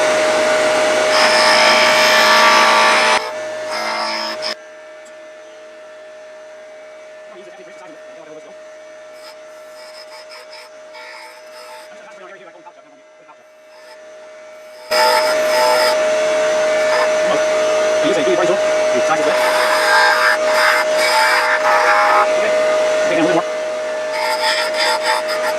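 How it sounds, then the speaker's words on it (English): A wood lathe turns a small spindle supported on both ends at full speed, a steady high whine under loud rasping tool cuts, with a quieter stretch in the middle before cutting resumes. "We're going to turn it, because it's a small size spindle supported on both ends."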